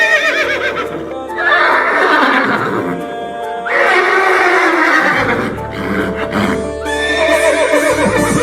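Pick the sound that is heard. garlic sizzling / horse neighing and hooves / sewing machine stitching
horse neighing and hooves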